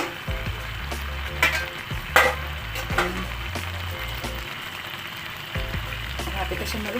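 Banana heart and chicken feet cook in coconut milk in a pan, a close bubbling sizzle with intermittent stirring scrapes and clacks, a voice speaking briefly over it.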